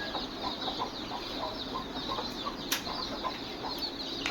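A free-range desi hen leads about ten ten-day-old vaccinated chicks, clucking softly and repeatedly nearby, with light wing flaps and scattered high peeps over steady farmyard ambience.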